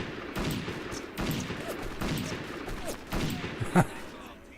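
Gunfire from the video game Ubersoldier 2: several loud, broadband bursts of shooting at irregular intervals over a steady background of game noise, with a sharp crack near the end.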